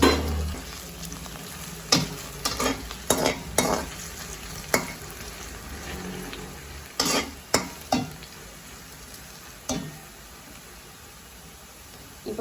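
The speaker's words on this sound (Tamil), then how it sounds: "இப்போ எண்ணெய் சூடாயிட்டது, உருளைக்கிழங்க போடுவோம்." Potatoes sizzle in hot oil in a pan, a steady frying hiss broken by sharp, repeated spatula knocks and scrapes, close and loud.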